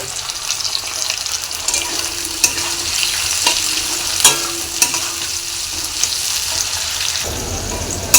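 Onion and green chili sizzle in hot oil alongside capsicum for chow mein, with a steady frying hiss broken by repeated scraping stirs of a spatula in the pan.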